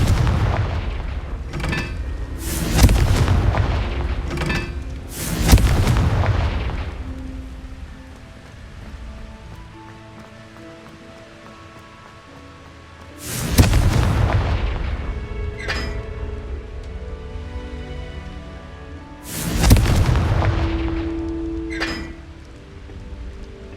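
Confringo blasting spells in the Hogwarts Legacy video game, a run of deep booming explosions with crackling debris, several clustered early and two more spaced later, loud and close over quieter game ambience.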